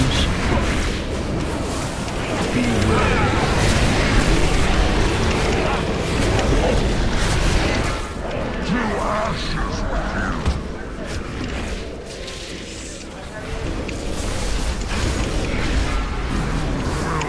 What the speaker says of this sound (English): Those are double booms.